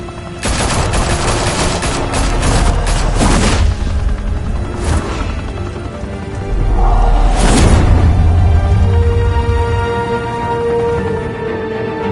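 Bursts of gunfire in the Batman Telltale Series game, with rapid volleys and booming shots in clustered salvos. A heavier rumbling explosion rises partway through, all loud and close.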